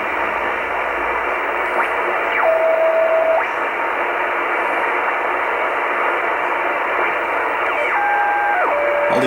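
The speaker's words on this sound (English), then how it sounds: "All these little tones that you hear are basically interference from devices all around my home." Interference tones on the shortwave 10-meter amateur radio band from household devices: steady loud static hiss with thin sustained whistling tones that step down in pitch at intervals, alone without voices.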